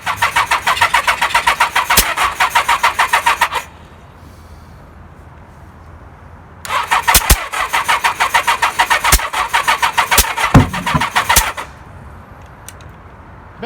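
1977 Kawasaki KZ1000 motorcycle engine being cranked by its starter in two long, loud rhythmic bursts with a quiet pause between them, plus a few sharp knocks and clicks, without catching into a steady idle.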